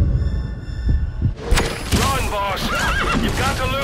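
A horse in the Metal Gear Solid V video game neighs and whinnies amid clip-clopping hooves and a busy, loud game soundscape, with someone shouting over it.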